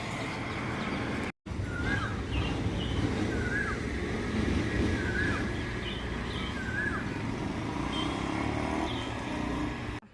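Road traffic rumbles as a constant broadband wash of passing engines, with faint bird calls, likely a koel, chirping intermittently above it and a brief dropout early on.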